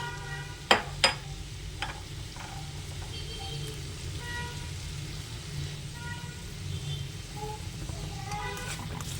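Onions, green chillies and curry leaves sautéing in a pan, a soft continuous sizzle with a few sharp spoon knocks against the pan near the start and light scraping throughout.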